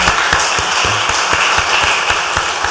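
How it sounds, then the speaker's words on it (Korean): Steady applause from a crowd, dense overlapping claps filling the whole stretch at an even, lively pace. "박수 한번 할까요?"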